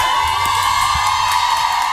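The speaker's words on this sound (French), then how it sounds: "Est-ce qu'on peut applaudir très fort Nia Loran, s'il vous plaît?" A radio studio audience at a live show cheers and whoops continuously, a dense wash of voices with no clear clapping rhythm, steady and loud throughout.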